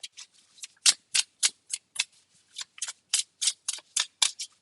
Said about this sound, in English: Shuffle cards.